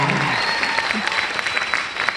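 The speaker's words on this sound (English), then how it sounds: "what you clapped and cheered over was a mumbled, "It's not fun."" An audience at a Q&A screening in the Egyptian Theatre breaks into loud, close applause, dense clapping throughout with a brief vocal note near the start.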